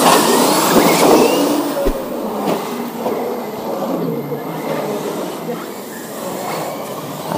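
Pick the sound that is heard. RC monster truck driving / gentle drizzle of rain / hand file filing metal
RC monster truck driving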